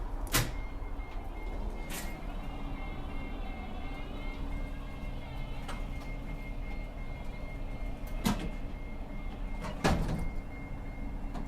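A Gillig BRT bus wheelchair ramp deploying, a steady mechanical rumble and whir with a few sharp clicks and knocks spread through it, fairly close and with no talking.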